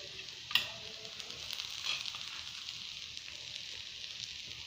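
Momo stuffing with spring onions sautés in a pan, giving a soft, steady sizzle with a sharp clack of a spoon early on and light stirring scrapes.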